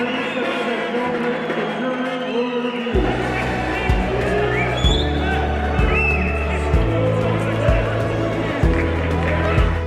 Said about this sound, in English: the whole crowd starts yelling.